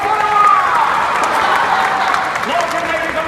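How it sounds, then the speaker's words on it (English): A crowd at a Disneyland outdoor show applauds in a loud, continuous wash of clapping, with scattered voices and faint whoops mixed in. "one more big round of applause for Lady Kitty!"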